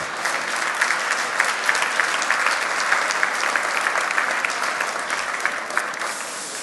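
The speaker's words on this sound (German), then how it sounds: "Einen herzlichen Applaus" A conference audience at Zukunft Personal Europe 2019 gives a keynote speaker sustained, even applause, a dense wash of claps holding steady with no talk.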